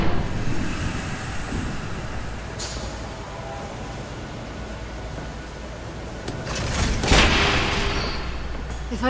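A train rumbles past in the Batman: The Telltale Series video game, a loud continuous rolling roar with clanking bursts that swells toward the end.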